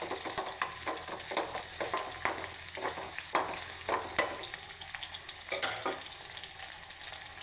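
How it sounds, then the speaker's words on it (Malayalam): Shallots and garlic sauté in a hot pan, giving a steady soft sizzle. Irregular scrapes and clinks from stirring punctuate the frying throughout, with no voices. "കൊച്ചുള്ളിയിലൂടെ നമുക്ക് വെളുത്തുള്ളി നല്ല ചെറുതായിട്ടൊന്ന് വഴണ്ട് വരുമ്പോൾ"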